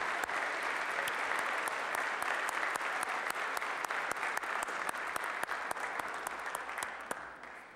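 A steady round of audience applause at a student government day meeting, dense and continuous with sharp individual claps standing out, tapering slightly at the very end.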